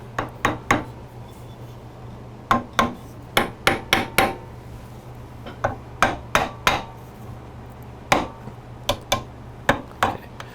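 Wooden dowels tapped into a handmade wooden wine rack, giving sharp, close knocks in quick bursts of two to four taps with short pauses, over a steady low hum.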